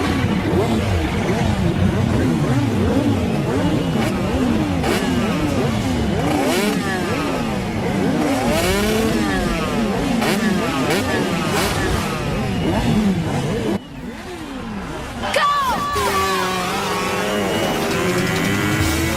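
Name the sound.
motorcycle revving while rider lifts the bike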